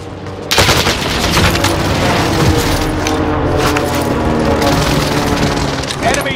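Airstrike explosions and sustained gunfire in the Call of Duty Warzone video game on PS5, a loud continuous barrage with booms and rapid shots starting abruptly after a brief quiet moment.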